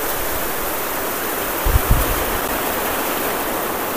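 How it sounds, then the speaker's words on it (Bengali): Heavy rain at Asif Agro Farm, a bird-rearing farm, makes a dense, even roar of broadband noise that hardly changes, broken only by a couple of faint thumps near the middle. "আর এখানে কিন্তু প্রচুর বৃষ্টি হচ্ছে"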